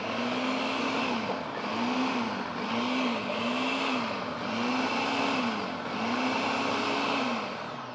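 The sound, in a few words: food processor blending dressing with cheese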